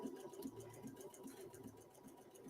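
A sewing machine stitching a simple buttonhole on a blouse placket, with a quiet, steady rapid whirring and rhythmic needle clatter running continuously at close range.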